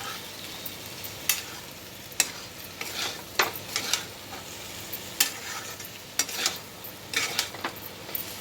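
Ivy gourd and potato sabji stirred in a pan over low heat, with a soft continuous sizzle broken by sharp, irregular spoon scrapes and clinks at close range, and no voices.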